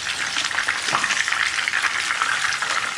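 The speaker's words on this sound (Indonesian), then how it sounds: "terus kita goreng ayamnya sampai nanti ayamnya berwarna kecoklatan" Pre-boiled chicken pieces fry in a hot wok, giving a constant close sizzle and crackle of oil for the whole stretch with no talking.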